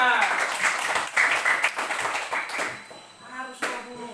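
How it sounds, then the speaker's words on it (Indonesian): Hand clapping from a class of pupils in a school lesson, a brief burst of claps mixed with children's voices and chatter throughout, ending with a couple of sharper claps. "Cahaya, tepuk tangan."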